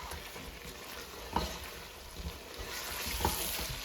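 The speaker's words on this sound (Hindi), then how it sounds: "और अब हम इसे इस मसाले के साथ बहुत अच्छे से फ्राई करेंगे ना इस गोश्त को" Meat for nihari fries with masala in a pan, a quiet continuous sizzle with a couple of faint stirring clicks.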